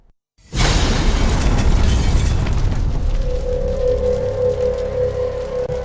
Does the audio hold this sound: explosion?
yes